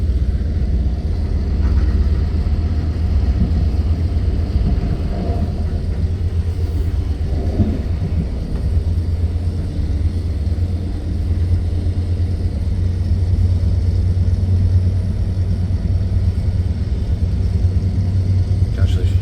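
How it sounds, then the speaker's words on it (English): A constant low train engine rumble drones from right below the floor of an Ottawa O-Train on the Trillium Line, steady and unbroken, with faint murmuring voices in the background. "Hear the engine right under my feet."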